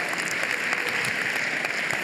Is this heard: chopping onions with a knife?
no